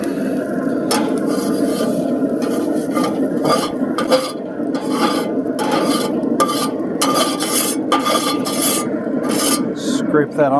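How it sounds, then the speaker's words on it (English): A metal pizza pan holding a homemade pizza is scraped in a home kitchen, with steady raspy scraping and rubbing strokes broken by brief clinks of utensil on metal, close and continuous for about ten seconds. "Scrape that off a little bit."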